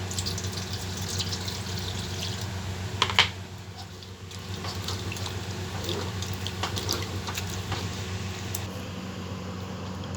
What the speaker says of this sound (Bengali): এবার আমি এটা ভালো করে জল দিয়ে ধুয়ে নেব